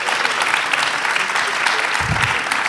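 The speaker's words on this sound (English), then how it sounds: "Give them a big round of applause" A school-pitch-event audience gives a round of applause, a loud, dense and steady patter of many hands throughout, with a brief low thump near the end.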